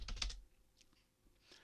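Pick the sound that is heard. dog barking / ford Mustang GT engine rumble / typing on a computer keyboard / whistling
typing on a computer keyboard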